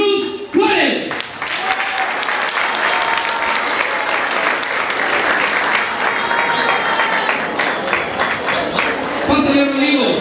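A crowd at a prize ceremony for a found-stone competition applauds a seventh-place winner with loud, sustained clapping that runs steadily for about ten seconds, and brief voices come through near the start and end.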